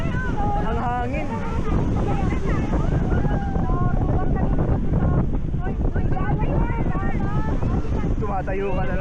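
Strong wind buffets a microphone at a beach, a loud continuous roar and rumble throughout, with voices talking faintly underneath.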